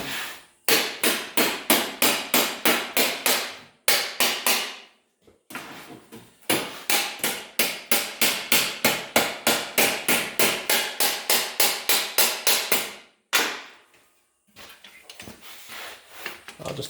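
Steady hammer blows on a sheet metal battery tray being shaped with simple hand tools and a dolly, coming in fast rhythmic bursts of a dozen or more close, loud, ringing strikes separated by short pauses.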